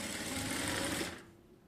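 A sewing machine runs steadily, stitching piping onto fabric two threads in from the edge while making a neckline, a continuous close whir that stops abruptly near the end.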